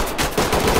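Gunfire punching through a wall during a close-quarters room-clearing firefight in the tactical shooter Ready or Not, a quick burst of sharp, loud shots in under a second with no talk over it.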